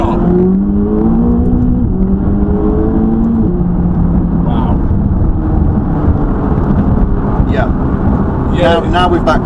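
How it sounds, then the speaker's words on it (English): A McLaren 570GT supercar accelerates on a road, its engine note climbing through the gears over a heavy, continuous rumble, with a voice talking over it. "Let's see what the 570 GT is capable of as a supercar."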